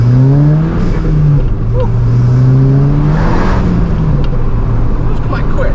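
A Seat Leon Cupra engine revs hard and climbs through successive gears, loud and close, with a brief whoop from an occupant partway through.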